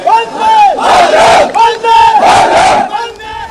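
A large group of soldiers chants the victory cry Bharat Mata ki Jai in loud, rhythmic unison, with the call and response repeating several times close by.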